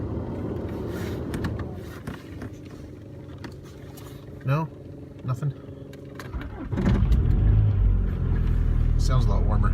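A Volkswagen engine cranks and catches to settle into a loud, steady low idle, following a quieter stretch with a few short voice fragments and a brief chime-like tone.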